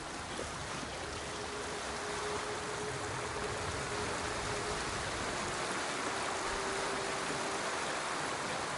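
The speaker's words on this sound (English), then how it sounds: "Under the waterfall." Waterfall and rushing water in a samurai-era video game, a steady dense broadband roar of falling and flowing water throughout, with a faint sustained tone humming beneath it.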